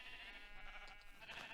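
Sheep bleating in the Minecraft video game, a game-style bleat with harmonic bands held over a steady background, fairly constant in level and with no talking.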